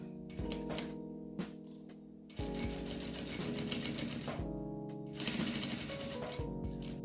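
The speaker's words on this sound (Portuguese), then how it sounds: "Vou costurar bem na pontinha, pela volta inteira da peça." A sewing machine stitches around the edge of a fabric baby clothes organizer, running in quick rattling bursts separated by short pauses, close and clear with no talking.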